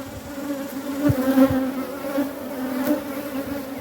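Honey bees from a cutout colony hum steadily during a hive inspection, a continuous close, moderately loud buzz with a few louder passes, no talking.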